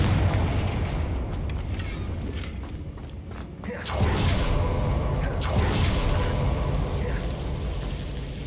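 Confringo fire spell blasts in Hogwarts Legacy, a dense rumbling battle din with a heavier boom surge midway, loud and continuous with no clear separate hits.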